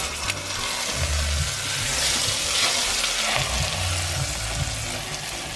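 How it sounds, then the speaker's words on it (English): Beef pot roast sears in hot vegetable oil, a loud, continuous sizzle and crackle from the pan that swells and eases slightly, with low bubbling underneath and no voices. "So we're gonna let this fry on both sides"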